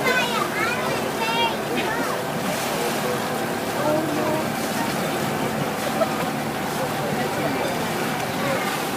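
Harbor shuttle boat ride on Newport harbor in Rhode Island, with a steady wash of engine and water noise running throughout, voices of passengers and children mixed over it.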